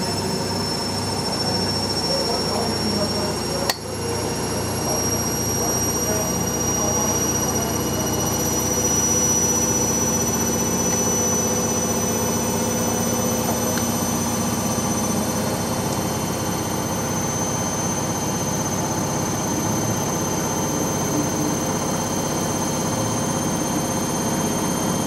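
An Indesit WIXL 163 washing machine spins at 1000 RPM with a constant loud whirring drone and a high whine. One sharp knock comes early, and there is no talk.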